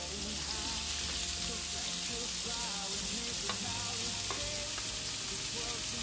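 Spiced chicken breast pieces, cut small and thin, sizzle steadily in a pan for skewers, a continuous frying hiss with occasional clinks and stirring sounds throughout.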